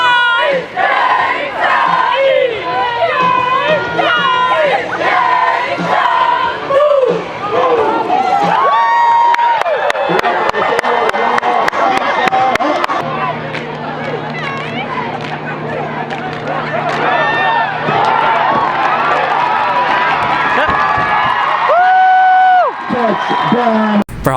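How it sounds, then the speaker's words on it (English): Loud crowd cheering and shouting at a high school event honoring seniors, color guard, cheerleaders and football, a sustained roar of voices with whoops and yells throughout. "Let's have a big round of applause for the hard work and dedication of"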